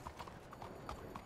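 In Red Dead Redemption 2, a horse's hooves clip-clop in a quiet, even rhythm, with several soft strikes over a low background.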